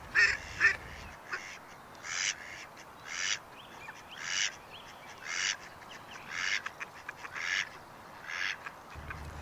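Ducks in an urban park quack in a run of short, rhythmic calls at close to moderate distance, about a dozen bursts in steady succession with faint background between them.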